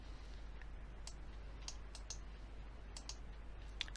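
A computer mouse clicks sparsely and irregularly, soft and close, each click a short isolated tick over a low steady hum, with no talking.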